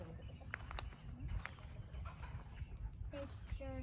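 Backyard garden chickens cluck in short, quiet bursts scattered across the moment, fairly near but faint, with soft voices in the background.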